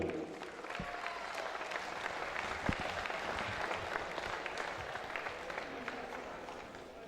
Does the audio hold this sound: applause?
yes